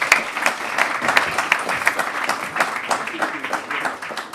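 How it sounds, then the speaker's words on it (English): Conference audience at a European battery policy event applauds steadily, a dense, fairly close patter of many hands with uneven swells, lasting throughout without talk. "A big round of applause."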